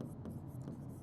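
Short scratchy strokes of a pen or chalk writing a chemistry equation on a board, a few quick marks in an uneven rhythm, fairly quiet and close.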